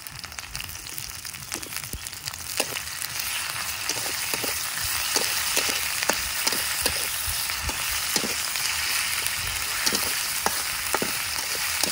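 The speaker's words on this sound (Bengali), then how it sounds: "মাংস আর পেঁয়াজটা একটু ভালোভাবে ভেজে নেই।" Chopped chicken and onion frying in a pan, a continuous loud sizzle with periodic crisp stirring scrapes, alone with no talking.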